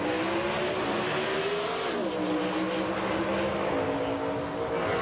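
Drag racing trucks, a Chevy S10 and a Dodge Dakota, roar at an NHRA event at Route 66 Raceway, a steady loud engine drone with rising and shifting pitch, no talk.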